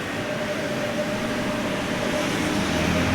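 Ambience of a Dubai metro station: a steady, even hum of rail and ventilation noise fills the space, with a faint tonal whine and no clear voices.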